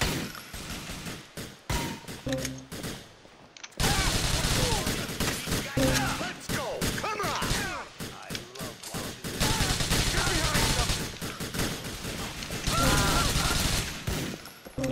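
Bursts of gunfire in GTA IV during the mission Waste Not Want Knots, with loud volleys of rapid shots in several stretches separated by quieter gaps of game ambience.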